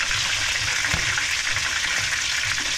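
Slender unicorn fish frying in a pan, a steady loud hiss and crackle of hot oil running continuously, with faint low clatter now and then and no talk over it.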